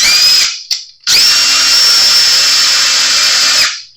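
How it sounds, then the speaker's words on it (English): A power drill with a bit bores into a bass guitar neck: a short whir, a brief stop, then a long loud steady whine that winds down at the end. "enough to make a mark in there, and we're going to drill it"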